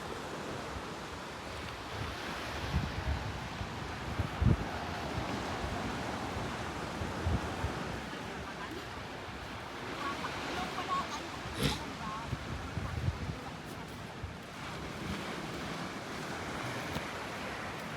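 Steady wash of surf at Boracay's White Beach at low tide, a broad continuous rush with gentle swells and wind buffeting the microphone, while a voice talks quietly over it.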